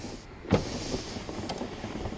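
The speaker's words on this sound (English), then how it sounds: "Windows roll up and down easily," Power windows on a 1952 Oldsmobile 88 give a short, close mechanical whir with a soft thump as the glass moves, followed by faint low rumble.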